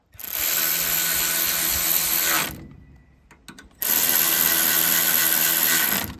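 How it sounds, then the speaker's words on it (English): A ratchet tightens valve cover bolts on a Predator 212 small engine in two long, rapid, buzzing runs of fine clicks, separated by a brief pause with a few faint knocks, close and steady. "I've got the valve cover on and all the bolts started in, so now to tighten them up"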